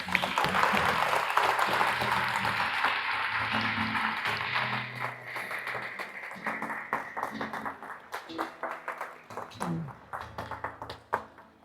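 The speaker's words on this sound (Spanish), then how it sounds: "de un fuerte aplauso al Señor" Clapping from a church congregation during a Spanish-language worship service, strong at first and then breaking into scattered, uneven individual claps with sharp taps and some faint background voices.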